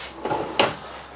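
Drawers in the kitchen of a 2018 DRV Mobile Suites 39 DBRS3 luxury fifth-wheel RV being opened and shut, giving two quick close wooden knocks about a third of a second apart.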